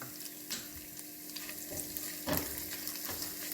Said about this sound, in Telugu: ఈ వెల్లుల్లి వేగుతున్నప్పుడు నేను కరివేపాకు కూడా వేసేస్తున్నాను